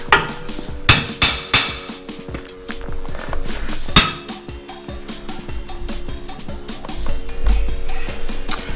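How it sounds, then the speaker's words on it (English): Sharp metallic hammer strikes ring out close by as bolts are tapped into a custom steel vehicle bumper, a few heavy blows followed by lighter, irregular tapping against metal. "Now, I need to get my hammer."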